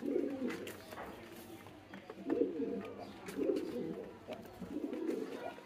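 A female King pigeon coos softly nearby in four low, rolling bursts, separated by short pauses, over faint background hiss.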